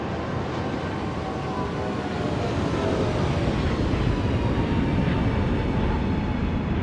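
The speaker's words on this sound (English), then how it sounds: "These engines are loud." Rolls-Royce jet engines on an American Airlines Boeing 777 roar loudly during takeoff, a dense, steady broadband rush heard from inside the cabin that builds slightly over several seconds with no talking.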